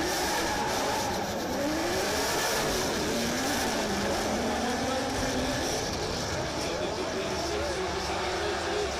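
Drift cars battle at the Oman International Drift Championship, Ali Maqseed leading Hamdan, with loud, continuous engine roar and wavering revs filling the whole stretch, likely mixed with a commentator's voice.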